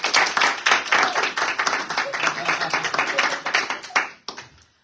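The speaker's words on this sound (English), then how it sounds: "A round of applause." A few people clap in a radio studio after a live song, a brisk close round of applause that tapers off with a couple of final claps.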